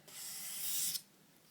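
Steady rubbing hiss of 800 grit sandpaper worked along a steel knife blade, a faint, close, continuous scrape lasting about a second with no talk.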